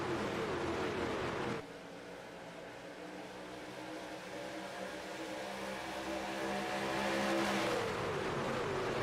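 Pickup trucks race at Talladega in iRacing, their engines roaring in a continuous pack drone that dips briefly, then builds steadily louder as the speeds climb.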